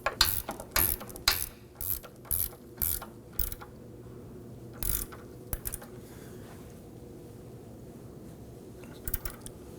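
A hand ratchet snugs down a 15mm nut on a sway bar end link of a 2001-2009 Volvo S60, giving several quick bursts of sharp clicking in uneven runs, close and clear, with a quieter stretch of faint rattling in between.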